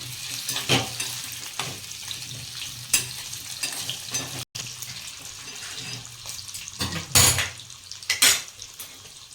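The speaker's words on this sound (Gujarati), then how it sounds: "હવે પનીરના ટુકડા રીતના નાખી અને થોડા સાંતરી દઈએ." Paneer pieces tossed into hot oil and sautéed, loud sizzling frying with clattering spoon-on-pan scrapes and stirring, close up and busy throughout with no talking.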